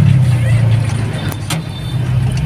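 Busy road traffic crosses Congressional Avenue, with a loud, steady rumble of nearby car and truck engines and brief passing whooshes, and no talk.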